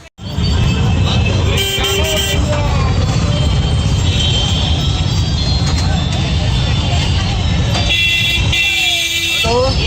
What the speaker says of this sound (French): Les routes indiennes en ville. Toujours un petit peu chargé.